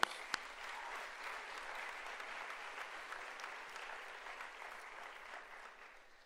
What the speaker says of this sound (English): So just let's give them a round of applause.